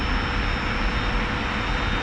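An F-86F jet taxiing in a DCS flight simulator game, heard as a steady, loud jet engine whine and rumble, continuous and unchanging for a couple of seconds.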